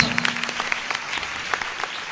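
Audience applause at a college annual day program with a comedy speech, a dense wash of clapping from a crowd that carries steadily for about two seconds at moderate volume.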